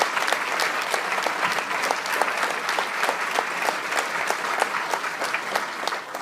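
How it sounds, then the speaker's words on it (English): A school awards evening audience gives a sustained round of applause, with dense even clapping that holds steady for about six seconds. "Big round of applause."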